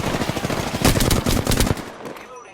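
Rapid automatic gunfire in Apex Legends, a loud close burst of dense repeated shots that peaks midway and then fades into quiet.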